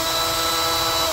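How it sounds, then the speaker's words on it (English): An electric drill in low torque, first-gear setting runs steadily with a number 21 bit, boring into a trolling motor; a loud, close, continuous whine holds for the whole moment with no talk. "I have a number 21 drill bit into my drill."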